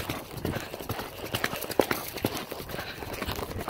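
A horse cantering around an arena, its hooves striking in a quick uneven rhythm of close, distinct thuds over steady background noise, with no talk.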